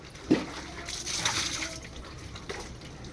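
Water splashing and running while a dog is bathed, a steady close wash of liquid with a brief louder splash near the start and no talking.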